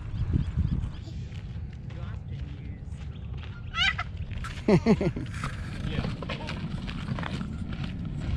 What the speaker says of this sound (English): Oh, look at the bird.